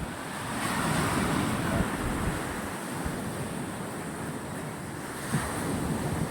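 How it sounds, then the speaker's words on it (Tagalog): Strong sea waves crash on a beach after Typhoon Kristine, where pumpboats are kept. The surf roars loud and continuous, with wind buffeting the microphone and no talking. "sobrang lakas ng alon"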